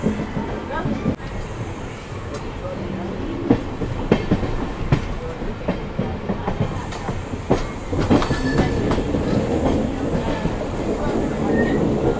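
The Erode–Jogbani Amrit Bharat Express pulls out of Erode station with a steady rumble, rhythmic clickety-clack of wheels over rail joints and occasional squeals, while someone talks over it close by.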